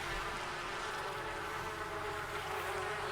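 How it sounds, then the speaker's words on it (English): Bees in The Sims 4 video game give a steady, continuous buzzing drone that holds at an even level throughout, with no talking over it. "oh yeah, some bees"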